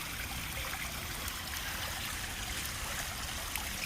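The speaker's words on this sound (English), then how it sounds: "a waterfall coming down in on that corner" A small waterfall splashes steadily into a koi pond, a continuous close rush of falling water that stays even from start to finish with no talking.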